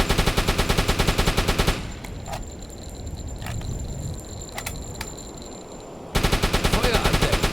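A flak gun on a Type VIIB U-boat fires in the game UBOAT: loud, rapid automatic bursts at the start and end, with a quieter stretch of rumble and sharp metallic clinks between them.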